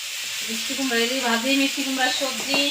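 Pumpkin and dried fish frying in a pan as a traditional Cooch Behar dish, giving a steady close sizzle with stirring, while a voice talks over it.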